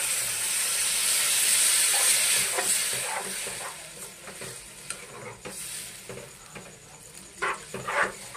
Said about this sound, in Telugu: ఇప్పుడు ఇందులో ఒక 1/2 గ్లాస్ వాటర్ పోసేసుకుందాము